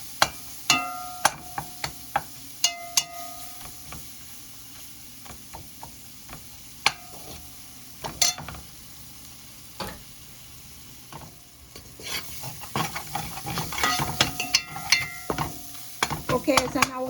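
Chicken in coconut milk cream cooks in a pan with a soft, low sizzle, punctuated by scattered clicks and clinks of a spoon stirring and tapping the pan, busier toward the end.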